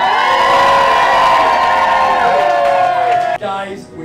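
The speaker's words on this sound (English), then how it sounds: "Round of applause and cheer to my lovely wife, Cindy Lorimer." Cheering and whooping from a party crowd at a gala estate opening, loud, sustained, high-pitched voices ringing out together, cutting off abruptly near the end into a quieter murmur.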